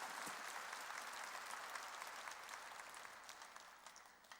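Church congregation applauding during a sermon, a steady dense patter of many hands clapping throughout, moderately distant and fairly even in level, tapering slightly toward the end.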